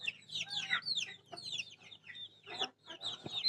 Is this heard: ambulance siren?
no